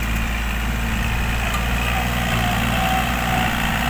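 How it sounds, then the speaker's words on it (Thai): Kubota L3608 ST tractor engine running at a steady idle in a large farm field, a constant, loud, close diesel rumble with a low vibrating drone and no speech. "รุ่นนี้ก็เป็นตัวจี๊ดอีกตัวครับคูบาต้า L3608 ST"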